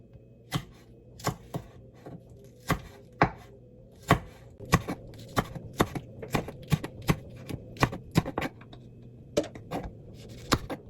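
Squid being chopped with a knife on a cutting board while cooking a quick breakfast toast, with about twenty crisp, close chops in an uneven rhythm and no talking.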